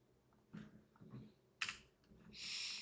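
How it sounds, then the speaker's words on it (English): Computer keys pressed and a mouse button clicked during work in Blender, a few scattered soft taps followed by a sharper click and a brief rustle, close and fairly quiet with no talking. "I'm gonna hit G and middle click."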